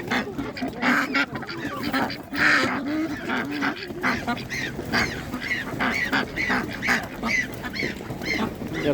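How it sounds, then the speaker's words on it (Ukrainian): A crowd of ducks quacks and honks loudly and continuously nearby, overlapping calls filling the air at a busy outdoor animal market. "Велика доросла качка."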